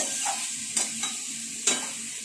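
Potatoes being stirred in a pan of oil tempered with cumin and a little chopped onion, with a steady sizzle and a few scraping strokes of the spatula close by and no talking.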